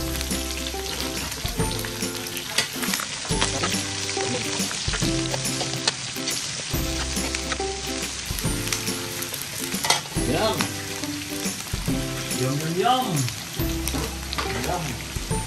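Garlic and onion fry in hot oil, a loud, continuous crackling sizzle with repeated clanks and scrapes of stirring in the pan, steady from start to finish and no speech.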